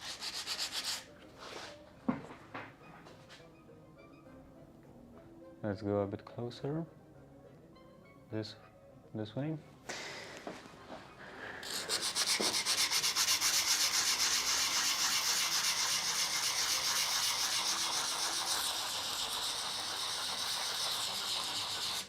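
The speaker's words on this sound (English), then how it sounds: "So this part, I will have to do some sanding." Sandpaper rubbed by hand over a metal tool during restoration work, a steady loud scratchy rasp that begins partway through and continues to the end, after earlier bits of talk and scattered handling noises.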